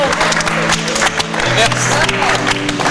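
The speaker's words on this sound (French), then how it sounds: "On l'applaudit encore?" An audience applauds at the close of a season of a French show, steady clapping under a voice speaking loudly over it throughout.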